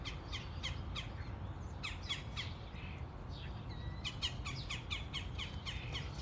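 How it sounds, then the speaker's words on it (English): Birds chirp and call outdoors on a morning with little snow, a series of short bright tweets and a few longer whistled notes over a steady low rumble, moderately near and continuous throughout. "I love hearing the birds too."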